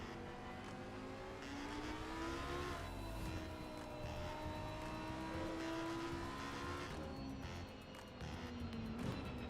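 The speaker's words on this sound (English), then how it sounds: "Excited to see all these cars getting warmed up." Race cars warm up at Spa Francorchamps, their engines idling and revving in a steady, dense rumble with rising and falling tones that overlap. The sound is moderately loud and continuous, and no one talks.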